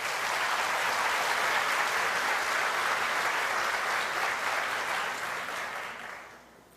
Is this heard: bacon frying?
no